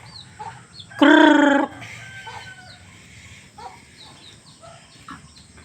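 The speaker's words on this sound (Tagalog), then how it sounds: "Ayan yung mga manok natin." Chickens on a former pig farm, with one loud, drawn-out rooster-like crow bursting out near the start, then faint scattered clucks and farmyard noise underneath.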